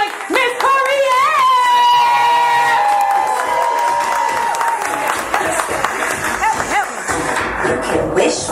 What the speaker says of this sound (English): Start clapping now. Give it up for my girl, your girl, our favorite workaholic, Miss Koereyelle.